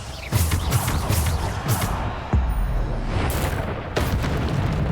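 Bombarda blasting spell going off in Hogwarts Legacy, several heavy booming explosions in quick succession, loud and punchy with rumbling decay between hits and no talking.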